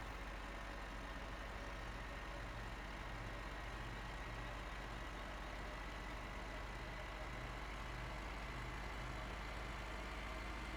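Tractor engine in Farming Simulator 15 running steadily for about eleven seconds, a constant low mechanical drone with a faint repeating hum, fairly quiet and with no voices.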